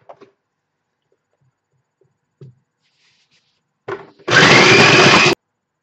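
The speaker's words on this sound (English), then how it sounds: "Pinch of pepper, pinch of salt, and we just want to give that a whiz up" A blender whizzes breadcrumbs with garlic, lemon and parsley in one loud, steady burst of about a second near the end, after a few faint clicks and knocks of near-silence.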